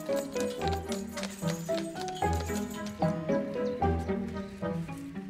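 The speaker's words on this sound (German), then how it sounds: "Die Bienenköniginnen in ihren Kästchen fahren mit der Pferdekutsche weiter bis zur Belegstelle." A horse-drawn carriage on a car-free North Sea island, its hooves clip-clopping in a steady repeating rhythm, close and clear, with harness and wheel sounds mixed in.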